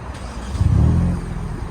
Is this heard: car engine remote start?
yes